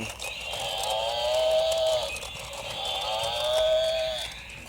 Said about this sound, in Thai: และนี่คือ บัฟฟาโลบัฟฟาโลสีแดงควายสีแดง